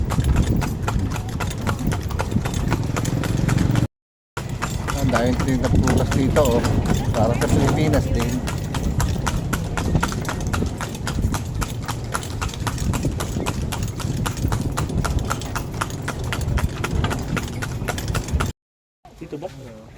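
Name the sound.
horse hooves clip-clopping while riding in Vietnam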